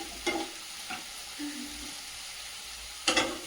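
Eggs fry in oil in a home kitchen, giving a soft, steady sizzle with a few brief stirring scrapes and clinks, fairly quiet and with no talking.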